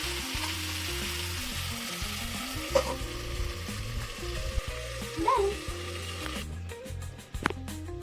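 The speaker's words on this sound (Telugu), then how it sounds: "ఇదంతా కాసేపు మగ్గనిద్దాం మూత పెట్టి." Chicken curry sizzles and fries in a pan, a steady close crackle with occasional clinks and scrapes, later muffled as a lid goes on, over low background music.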